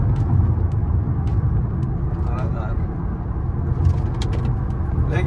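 A Chery Arrizo 8 sedan driving on the road, a steady low cabin rumble of engine and tyres running continuously beneath someone talking.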